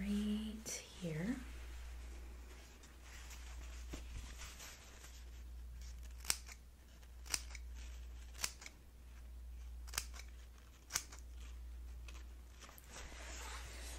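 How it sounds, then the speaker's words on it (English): Scissors snip through wedding dress fabric in a quiet close setting, several distinct crisp cuts spaced a second or two apart, with soft whispering early on. "I'm gonna go ahead and cut right here."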